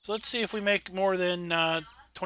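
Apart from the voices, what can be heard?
No everyday noises stand out.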